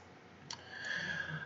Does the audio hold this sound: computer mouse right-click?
yes